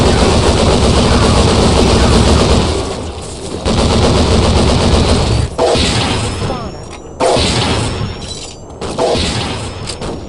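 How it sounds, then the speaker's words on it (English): MG42 machine gun fire in the video game Devastation: loud, sustained rapid bursts broken by short pauses, dense and close, with brief gaps between long strings of shots. "Now I got an MG42."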